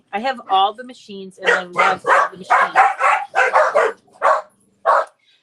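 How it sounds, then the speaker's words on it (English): A household dog barks in short repeated bursts close by, overlapping someone speaking in a home craft room. "sorry for the dog barking"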